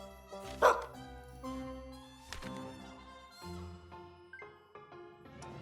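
Small puppy barks and yips from a video game ring out over a busy, tonal music score, with a sharp bark early and softer yaps scattered through the rest.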